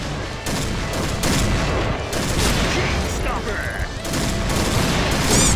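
Sniper rifle shots in the Point Blank shooter game ring out as sharp reports over a busy, dense bed of game noise, with someone talking throughout.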